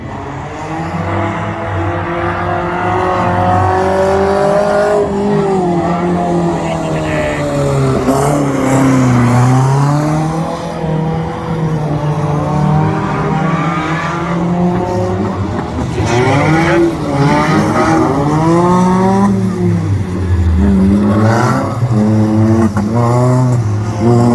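Banger race cars race around Lochgelly Raceway in Scotland, with loud continuous engine roar and rising and falling revs as several cars circle close by, with no talk over them.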